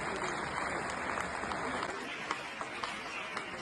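A crowd applauds guests at a stage event, making steady, dense clapping that carries at moderate distance through the whole stretch, with a few sharper claps standing out.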